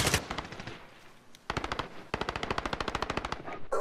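Call of Duty Modern Warfare gunfire: a short opening burst, a lull, then sustained rapid automatic fire in tight rhythmic bursts, loud and close, with no talk.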